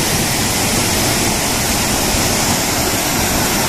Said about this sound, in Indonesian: Jadi air terjun Singokromo ini tepatnya berada di Gunung Wilis.